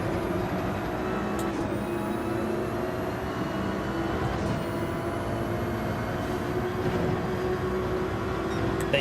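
A car racing in Gran Turismo 7, engine noise loud and continuous with high whining tones and revving that shifts pitch as it changes gear, no voices.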